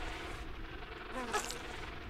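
A bee buzzes in the Tomb Raider 3 video game, a continuous insect drone running close for about two seconds with no talk.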